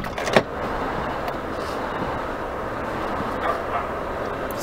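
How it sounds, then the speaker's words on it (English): A dog barks in the distance, with a sharper yelp near the start and a few fainter barks later, all under a constant hum of traffic or background noise. "Still barking."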